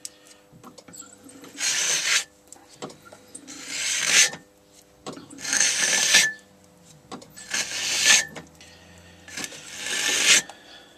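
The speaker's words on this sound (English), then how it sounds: "Trim off this." Trimming tool scraping a clay pot on a potter's wheel, five rasping bursts of about a second each with pauses between, close and fairly loud.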